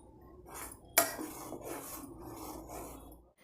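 Grated coconut being stirred into melted jaggery in a cooking pot; a sharp metal clank from a spoon striking the pot, followed by steady scraping and stirring, fairly close and alone without voices.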